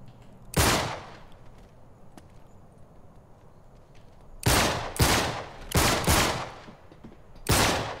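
Gunfire in the Uncharted 3 video game: one loud blast, then after a pause a close run of four rapid shots, and a final shot at the end, with no talk.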